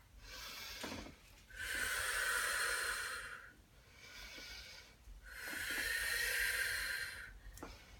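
Two long, breathy exhales, each lasting about two seconds, from a person stepping back during a postnatal pelvic floor and core exercise, close and soft with a quieter breath between them.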